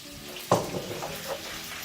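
Spinach hits hot oil in a pan with a sudden burst of sizzling that settles into a softer, steady crackle.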